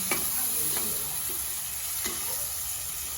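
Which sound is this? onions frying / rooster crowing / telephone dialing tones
onions frying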